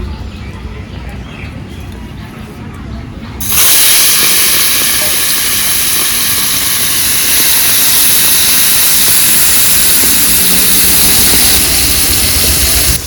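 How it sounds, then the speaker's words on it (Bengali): Prawns drop into hot oil and burst into a loud, sustained close sizzle that keeps hissing evenly after a quieter start. "চিংড়ি মাছ নিয়ে নিয়েছি এবার ভেজে নেব"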